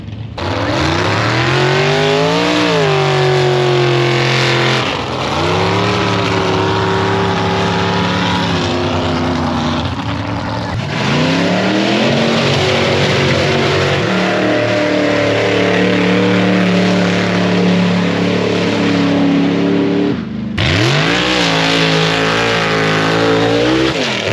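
Trucks power through mud at the Drummond Labor Day mud bog, engines roaring loud and continuous with revs climbing and falling in long sweeps, one brief dip before the roar surges back.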